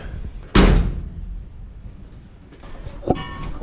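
A Ford Anglia car door swings shut with a loud thud and latch near the start, followed by quieter clicks and handling sounds from the same door later.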